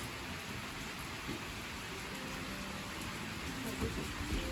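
Steady rain falls outside a hotel balcony in Khao Sok National Park, Thailand, a continuous even hiss with faint low rumbles that could be distant thunder, close and moderately loud throughout.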